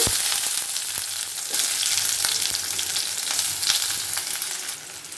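Chopped onions with mustard seeds frying in hot oil, a steady loud sizzle with scattered crackles and pops throughout, no voices.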